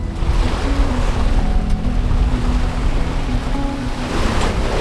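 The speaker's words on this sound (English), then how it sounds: "So we're sailing along really beautifully now." A sailboat runs under sail across ocean waves on a sunny tropical day. A continuous, fairly loud rush of water and wind plays on without a break, with no voices.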